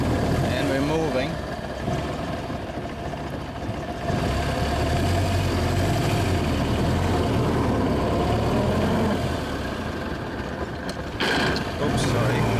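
A 1927 Austin 7 Chummy tourer's small engine runs steadily as the car pulls away, a continuous mechanical chug and whine with someone talking over it.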